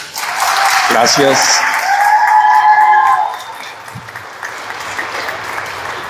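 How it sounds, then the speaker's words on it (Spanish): A conference crowd applauds a priest loudly, clapping and cheering in a full wash that fades into lighter scattered claps, while a voice speaks over it. "El aplauso fuerte para el padre,"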